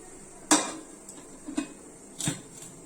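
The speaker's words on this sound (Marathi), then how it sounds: "इथे थोडं प्रेस करते आणि आता ह्याला मी झाकण लावून घेणार आहे." A metal lid set onto a pot of turmeric-leaf patoli: three short clanks and clatters of cookware, close and fairly loud against a quiet kitchen background.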